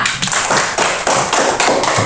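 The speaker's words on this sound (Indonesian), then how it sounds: "Ya, tepuk tangannya buat temannya." Schoolchildren in a classroom clap for a classmate, loud and close, in a rhythmic patterned beat of repeated sharp bursts over about two seconds.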